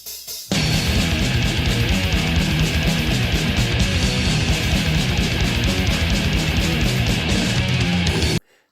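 A drummer plays a very fast diarrhea blast drum pattern on a death metal song, a dense, loud, relentless wall of full-band sound that kicks in after a short pause and cuts off abruptly.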